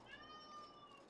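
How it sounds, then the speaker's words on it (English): An unhappy cat gives one drawn-out, strained meow, held steady for about a second, heard faint and distant. "Not a happy cat."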